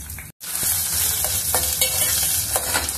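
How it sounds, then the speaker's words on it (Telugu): Green chilies and onion pieces sizzle in hot oil while being stirred, with steady frying hiss and occasional scraping clicks of the spoon against the pan, close and continuous after a brief gap near the start. "పచ్చిమిర్చి, ఉల్లిపాయ ముక్కలు కొంచెం ఊరిక నూనెలో అట్లా కొంచెం వేగినాయంటే చాలు."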